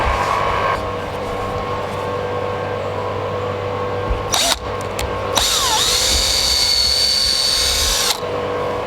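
A power drill drives screws into an RV skylight on a Grand Design Imagine 2150RB, loud continuous whirring with a short pause and a rising whine as the motor spins up again near the end.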